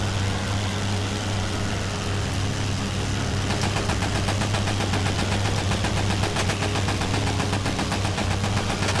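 A WWI biplane's machine gun in Wings Over Flanders Fields rattles in a sustained rapid burst over the steady drone of the aircraft engine, loud and continuous for several seconds.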